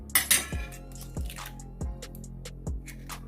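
Eggs being beaten into a beef burger mixture in a bowl, heard as a steady series of soft, wet slaps with light clinks from utensil against bowl, repeating about every half second, close and fairly quiet.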